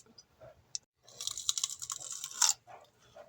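Celery stalks chopped into big chunks for a cowboy beef stew give crisp, rapid crunching cuts in a close burst of a second or so, bracketed by faint quiet moments.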